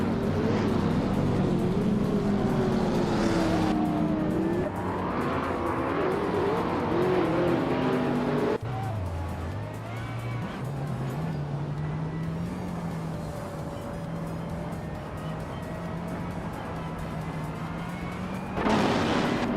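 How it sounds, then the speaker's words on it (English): Race cars in a video game roar past one after another, engine notes rising and falling through gear changes and pass-bys, one car buzzing close and steady toward the end. "Telescope Beimer and Dale Earnhardt are nose-to-nose for 5th"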